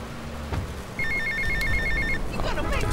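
Telephone ringing in the video game GTA Vice City: a repeated electronic trill of short rapid pulses, clear and fairly loud over steady game background noise, then fading as other game sounds take over.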